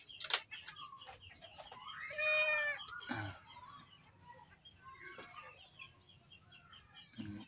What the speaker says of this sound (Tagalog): Cute ng mga anak ng kambing oh.